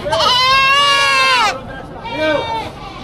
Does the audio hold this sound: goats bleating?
yes